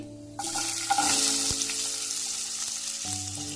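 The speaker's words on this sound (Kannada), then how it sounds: "ಈರುಳ್ಳಿ ಬಣ್ಣ ಬದಲಾಗೋವರೆಗೂ ಹುರ್ಕೊಳ್ಳೋಣ" Chopped onions sizzle and crackle in hot oil, added over cumin seeds in a pan for a mushroom samosa filling, with a steady loud fry, a few stirring knocks, and no talk.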